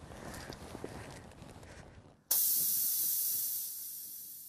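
Air hissing out of a car tire after a nail is pulled from it, a faint rustling stretch followed by a sudden loud, steady, bright hiss that eases slightly as it continues.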